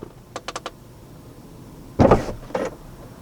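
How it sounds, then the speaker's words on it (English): A Tesla's rear passenger door opens via a console smart button: a few quick soft clicks, then after a pause a louder mechanical thunk of the door release followed by a brief second clunk, fairly close. "if you hit it twice, that should open up the rear passenger door"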